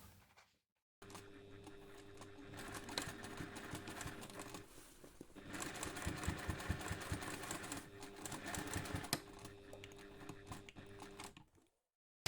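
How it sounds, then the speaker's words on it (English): A sewing machine stitches a seam on a waterproof bike seat cover, running in steady whirring bursts with a brief pause partway, close and moderately quiet with no voices. "I'm just going to move my knot out of the way so it doesn't bother me while I'm sewing, and then simply finish sewing the seam."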